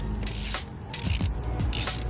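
Ratchet turning in three quick bursts of rapid clicking on the coil pack bolts of a BMW 650i Gran Coupe, loosening them close up with a brief pause between each burst.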